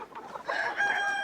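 Hens cluck close by in a snowy coop during afternoon animal chores, with soft, uneven murmuring clucks building into a louder, sustained call toward the end.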